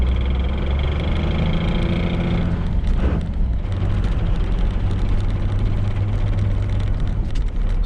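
A steady, loud low rumble and drone of a worn 1995 Dodge 2500 Cummins truck drivetrain with an NV4500 five-speed transmission, running continuously, with no voices.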